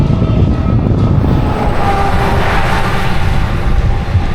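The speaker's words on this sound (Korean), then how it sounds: "기차 지나간다." A train rumbles past beside Highway 17 in rural Ontario, a loud, continuous roar of rail cars close by, heard from the roadside during a bicycle trip.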